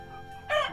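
A hen, an Australorp cross kept among fancy poultry, gives one short, loud call in the last part of the moment, rising abruptly out of quiet background hum.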